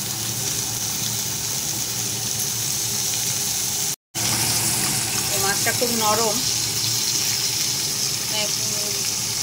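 Ayla fish, rubbed with salt and turmeric, frying in a pan: a continuous loud sizzle and spatter of hot oil running throughout, with someone speaking over it.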